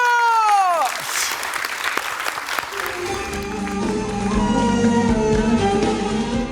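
Studio audience applause on a Turkish television variety show, a broad wash of clapping running steadily under loud sustained musical tones and a falling sweep at the start.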